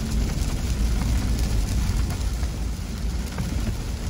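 Rain during a drive near an airport as a hurricane approaches, heard as a steady dense hiss of rain and road noise inside the car, continuous and fairly loud with no talking.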